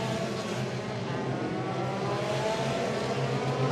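F3 racing cars crossing the finish line at Monza, a continuous roar of open-wheel engines droning and revving at a distance, steady and unbroken without distinct individual passes.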